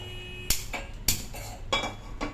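A pan is set down on a stove with several sharp metallic clanks, each followed by a brief ring, heard close and fairly quiet in a home kitchen while curry leaf powder is being made.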